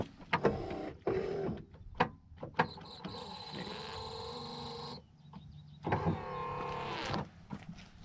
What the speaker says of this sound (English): Even the back window, corner windows are electric.